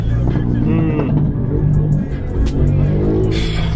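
Road traffic heard from inside a car in Jamaica, a low steady engine rumble with passing vehicles that stays in the background while someone talks almost the whole time.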